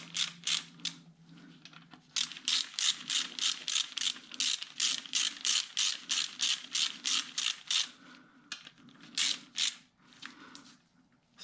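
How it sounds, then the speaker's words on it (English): A small hand ratchet snugs the head bolts on a 5.3L LC9 engine during a rebuild. It produces a close, rapid series of crisp clicking bursts in steady strokes, with short pauses between runs. "I'm going to take my little ratchet here and just tighten them"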